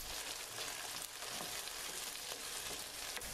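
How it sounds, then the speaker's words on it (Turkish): Potato pieces fry in hot oil in a pan, giving a steady, even sizzle with light stirring scrapes and no voices. "Tavamıza biraz sıvı yağ alıp kızdıktan sonra patateslerimizi alalım. Yumuşayana kadar karıştırarak pişirelim."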